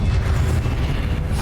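A Confringo spell blast in Hogwarts Legacy booms low and heavy, a dense rumbling explosion that fills the moment and then rolls on without a clean decay.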